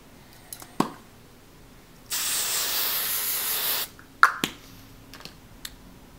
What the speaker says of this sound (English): First I'm gonna hairspray it.